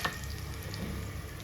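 Curry leaves and dried red chillies sizzle and fry in hot oil while mango pulihora is made, a quiet, steady crackle with no talking.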